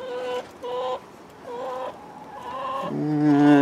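Hens in a chicken run cluck and call close by in a hot July garden, several separate squawking bursts with short pauses, ending in a louder, sustained cackle.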